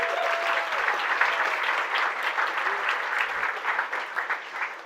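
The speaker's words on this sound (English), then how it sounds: "Let's give a round of applause for Andrea." An audience at a celebration gala gives a round of applause, a steady, moderately distant wash of many hands clapping that holds evenly throughout.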